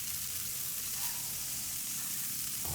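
Ribeye steak sizzling in a pan while basted in butter, a steady close frying hiss with no talk.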